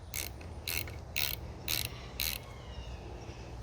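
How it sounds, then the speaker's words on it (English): A ratchet wrench clicks in five short, evenly spaced bursts while tightening a bolt on a Yamaha 3hp outboard during water pump replacement, close but quiet, with nothing else heard. "Just got to stay there for a moment while I tighten this bolt up."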